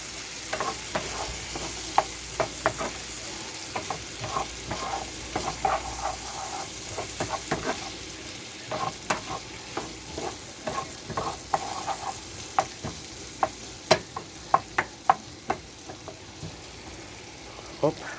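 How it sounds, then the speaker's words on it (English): Eggs and fillings for breakfast burritos sizzle steadily in a frying pan while a utensil stirs them, sharp scraping clicks and taps scattered throughout, close and moderately loud with no talking. "So we're gonna do a little stir here"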